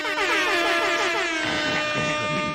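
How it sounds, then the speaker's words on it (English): An air horn sound effect blasts loud and continuous on a live-streamed talk show, a long sustained blare with a slight wavering pitch and no voices over it. "we're getting air horns for that one."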